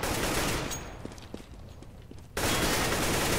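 Gunfire in the competitive video game Counter-Strike on the map de_mill, dense bursts of shots blasting loudly at first, thinning to scattered shots, then a sudden loud wall of rapid fire returns.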